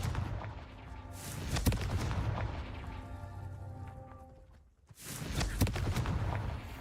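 Confringo spell blasts in the PS5 game Hogwarts Legacy burst with booming impacts and crackling debris, one explosion rolling into a decaying rumble before a sharp second blast hits, with no voices.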